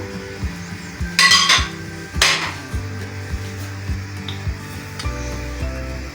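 Macaroni and spaghetti are dropped into a pot of boiling water with a couple of loud rattling clatters and clinks of metal against the pot, then quieter knocks over a low bubbling hum.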